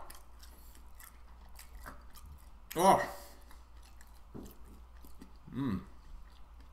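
Quiet chewing with two distinct crunchy bites a few seconds apart, close to the microphone over faint background noise.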